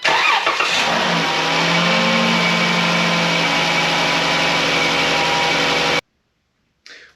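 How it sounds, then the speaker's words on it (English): A 3.6 Pentastar car engine, just fitted with a new PCV valve, runs loud and steady close up, with a brief rough start at the beginning, then cuts off into silence before a short faint noise. "We're going to start the car up"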